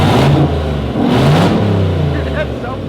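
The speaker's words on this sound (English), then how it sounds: "just revving it up" Turbocharged car engine revving on a dyno to around 5,000 RPM, a loud, sustained mid-pitched roar that swells and eases in two pushes, with a blow-off valve fitted, while people talk over it.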